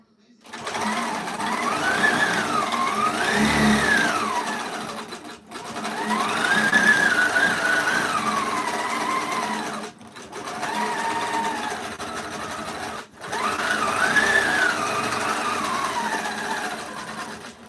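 A sewing machine free-motion quilting a feather pattern on a minky baby quilt: loud, close, steady motor whirring in long bursts of a few seconds each, with short pauses between runs.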